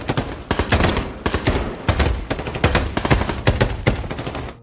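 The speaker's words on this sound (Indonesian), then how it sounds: "Terjadilah baku tembak yang tidak bisa terhindarkan" A firefight in the war film American Sniper brings dense, loud overlapping gunfire. Rapid automatic bursts and single shots fill the whole stretch without pause.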